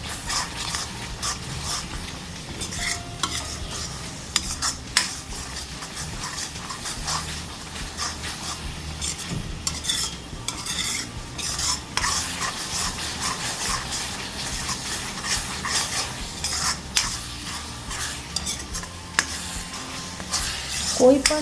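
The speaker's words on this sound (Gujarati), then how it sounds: "હવે આનું તેલ છૂટું પડી જાય ત્યાં સુધી આપણે તેને ચડવીશું." Tuver na thotha gravy cooks in a pan, giving a steady soft sizzle with occasional scraping clinks of a spoon stirring against metal throughout.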